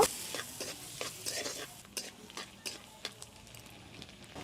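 Chopped onion and garlic sizzle in hot oil for a potato snack, with close, crisp frying hiss broken by repeated spoon scrapes and taps against the pan.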